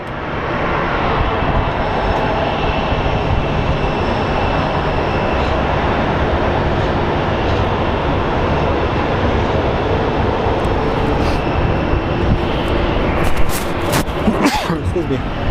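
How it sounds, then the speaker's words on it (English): Airplanes take off at Phoenix Sky Harbor International Airport, a loud, sustained jet-engine roar that fills the whole stretch and swells slightly near the end. "You guys can actually watch some planes take off."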